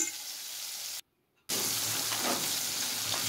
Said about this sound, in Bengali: একসঙ্গে সমস্ত মাছের টুকরোগুলো ভেজে নেব, তাই বেশি পরিমাণে তেল দিয়েছি।